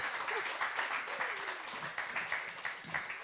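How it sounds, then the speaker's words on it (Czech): An audience claps for a talk show host, a few seconds of steady, moderately loud applause with faint voices mixed underneath. "Zatleskejte mu taky"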